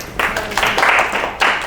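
A classroom of students claps briefly for a classmate, a few uneven bursts of hand clapping close by in a small room.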